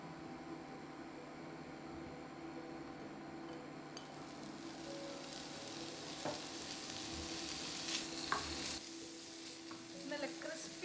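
Strips of pancetta fry in a pan for carbonara, a steady close sizzle and crackle with occasional stirring clinks and scrapes, growing busier toward the end, with no talking.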